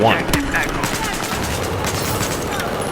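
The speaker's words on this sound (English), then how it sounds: "When you set the AK-12 on the burst fire mode, you actually are firing 750 rounds per minute." Rapid burst fire from an AK-12 rifle in the shooter game Battlefield 4, a loud dense clatter of shots packed together, with a voice talking over the gunfire.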